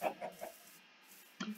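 A Minecraft chicken clucking during modded gameplay, a few short, quiet clucks followed after a brief gap by another soft cluck.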